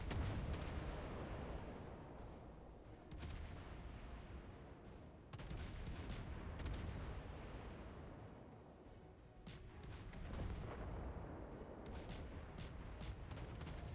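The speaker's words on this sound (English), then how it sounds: "The auto secondaries of the Freddy start popping." Battleship secondary guns firing in a naval warfare game, a long barrage of rapid close booms and cracks in irregular clusters, the volleys surging and easing over a constant roar.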